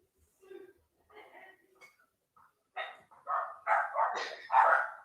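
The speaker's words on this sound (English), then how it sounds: "I can hear a dog barking." A dog barks in a series of short, sharp yaps that grow louder and more insistent, heard from a moderate distance in an otherwise quiet room with no talking.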